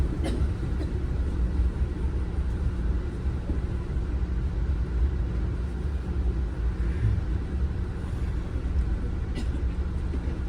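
An Amtrak Northeast Regional train runs along the track into Wilmington Station, Delaware: a loud, steady interior rumble and rolling wheel noise with faint clicks and knocks, heard from on board, no talking.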